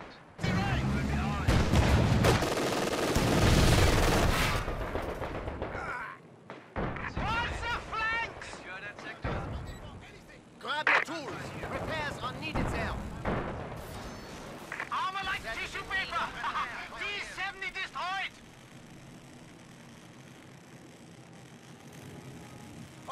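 Gunfire and combat in Company of Heroes 2, a World War II strategy game: loud bursts of shots and heavy booming blasts crowd the first half, then scattered firing continues beneath spoken voice lines before fading to a quiet rumble.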